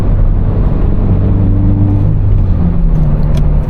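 Loud, constant low exhaust drone from a Scion FR-S with its muffler deleted while driving, a heavy rumbling hum with steady tones that shift slightly in pitch, no talk over it.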